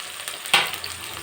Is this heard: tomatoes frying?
yes